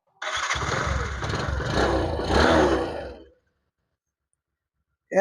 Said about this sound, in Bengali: বাইকটি একটু স্টার্ট দেবো আপনাদের স্টার্ট দিয়ে একটু সাউন্ড করে শোনাবো